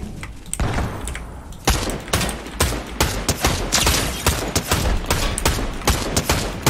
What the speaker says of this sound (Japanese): 大砲撃ってきてるわ